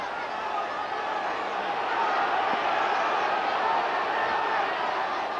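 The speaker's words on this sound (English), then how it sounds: "The big crowd here at Naughton Park urging their players on for one last big effort" Large crowd at Naughton Park roaring and cheering steadily through a rugby league match between Widnes and the Australian Kangaroos, a continuous broad wash of voices that swells slightly midway.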